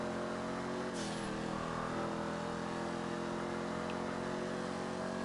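A Mustang accelerates hard on a 150-shot of nitrous, its engine note climbing steadily in pitch through a gear with a brief break near the start as it shifts. The engine is loud and continuous, with no voices heard.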